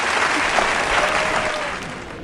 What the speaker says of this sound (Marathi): टाळ्या वाजवा, टाळ्या तरी वाजवा.